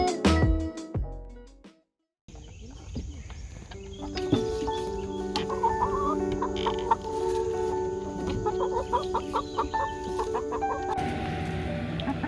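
Egg-laying hens in a front-yard flock clucking steadily and close by, with repeated short calls over a busy background after a brief quiet gap near the start.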